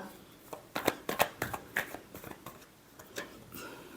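Tarot cards being shuffled by hand, a close run of crisp papery flicks and riffles in bursts over a few seconds, with no talking.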